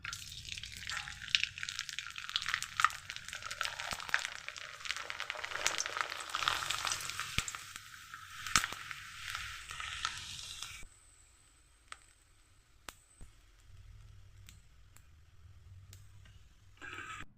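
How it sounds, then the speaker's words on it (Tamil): Rice appalam fries in hot oil in a kadai, a soft bubbling sizzle with scattered pops and ticks for about eleven seconds, then dropping to faint crackles and occasional clicks near the end. "எண்ணெய் சூடானதும் காய வச்ச அரிசி அப்பளத்தை பொரிச்சிடலாம்."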